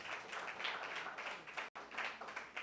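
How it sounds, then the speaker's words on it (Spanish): A church congregation applauding, a dense, even wash of hand claps from many people, cut off for an instant and then carrying on. "Démosle un fuerte aplauso al Señor"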